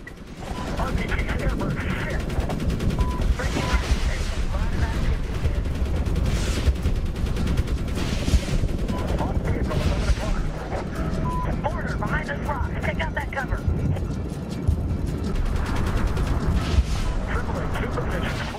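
Sustained gunfire in the war game Medal of Honor, dense bursts and heavy thuds layered into a continuous loud battle din, with a voice speaking over it at times.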